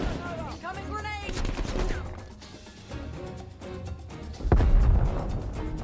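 Guns fire in Call of Duty Black Ops Cold War combat, with rapid shots and bursts, a heavy crashing impact near the end and voices calling out between them.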